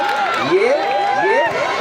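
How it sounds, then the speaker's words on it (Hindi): Spectators at an Azamgarh versus Punjab volleyball match cheer and shout in a steady, loud crowd roar, with rising and falling voices and some clapping mixed in. "तालियां बजाओ"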